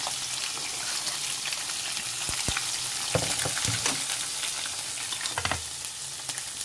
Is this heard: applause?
no